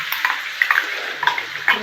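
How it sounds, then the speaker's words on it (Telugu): Coarsely ground green chili and garlic paste fries in hot oil while being stirred, a close sizzle broken by scraping strokes of a spoon against the pan in an uneven rhythm. "మిక్సీ పట్టుకున్న పేస్ట్ని ఆయిల్ వేసి ఫ్రై చేసుకోవాలి"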